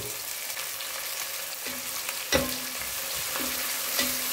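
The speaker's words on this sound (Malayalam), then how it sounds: "ഇനി ഇവൻ ചെറുതായിട്ടൊരു ഗോൾഡൻ കളർ ആകുന്നത് വരെ നമ്മൾ ഒന്ന് ഫ്രൈ ചെയ്യും" About four sliced onions frying in oil for Ambur chicken biryani, a steady soft sizzle broken by a few sharp clinks and scrapes of a spoon against the pan.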